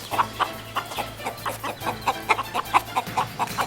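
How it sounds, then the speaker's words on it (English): A live chicken, just caught and held close, clucks in a steady run of short, repeated calls over a low background hum, with no talk. "Look at the chicken I just caught."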